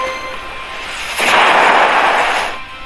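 A pack opening effect in the FUT 23 football game plays as a sudden broadband whoosh-burst that swells in at once, holds for over a second, then fades, loud and alone without talk.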